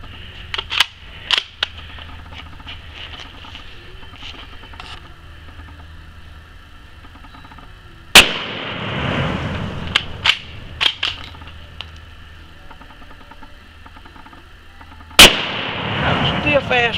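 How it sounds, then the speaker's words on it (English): An old pre-war Marlin Glenfield Model 50 12 gauge bolt action shotgun fires two loud blasts several seconds apart, with clicks and clatter of the action cycling between the shots. "Got an old Marlin Glenfield Model 50 pre-war, 12 gauge bolt action shotgun."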